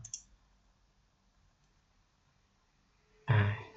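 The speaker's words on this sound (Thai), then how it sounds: "คลิกขวาแล้วก็เปิดในแท็บใหม่แบบนี้นะครับ" A single sharp computer mouse right-click sounds at the start, then near silence, followed by a loud breathy exhale close to the microphone at the end.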